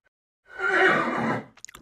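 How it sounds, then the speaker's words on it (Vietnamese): A single horse whinny lasts about a second, loud and close, trailing off into a few soft clicks after near silence. "Đây là con ngựa."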